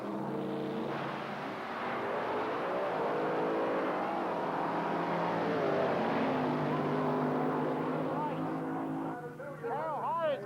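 Drag racing cars from an 1980s Australian meet, including a Fiat Coupe, roar and accelerate hard in a sustained loud engine drone, with a commentator talking over the engines.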